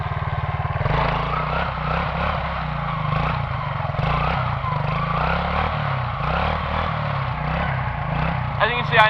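Quad ATV engine revving during a wheelie in a thunderstorm, a buzzing, pulsing motor drone that rises and falls in loudness, with a person talking over it.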